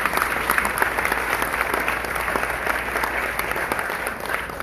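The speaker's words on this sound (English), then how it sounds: "Let's give them a round of applause." An audience at a community celebration of Eid ul Fitr and July 4th gives a steady round of applause, dense and continuous, with a crowd filling the space for the whole stretch and no clear voice over it.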